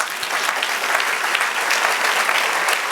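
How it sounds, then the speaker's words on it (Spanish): A church congregation claps together in sustained, dense applause during a Spanish-language service, steady and fairly loud throughout with no gaps. "Dale un aplauso al Señor."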